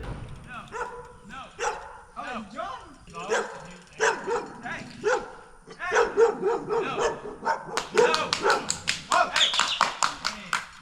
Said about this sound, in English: John was getting attacked by some dogs.